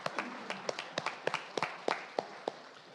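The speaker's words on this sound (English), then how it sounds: "round of applause." Audience applause at an employee recognition ceremony, heard as a thin scattering of separate claps with a sharp, irregular rhythm, moderately close and fairly quiet, with no talking over it.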